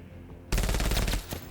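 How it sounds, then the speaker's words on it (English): Machine gun fire in the game Menace erupts suddenly after a quiet half-second, a rapid burst of loud, close shots rattling for about half a second before tapering into a few scattered reports. "Getting shot at!"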